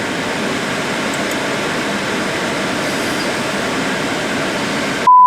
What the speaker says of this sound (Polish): patrz, pociąg się rusza